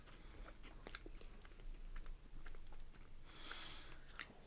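Salty Japanese cracker being bitten and chewed close to the mic, a quiet run of dry crunches in an irregular rhythm with a louder crunchy burst near the end.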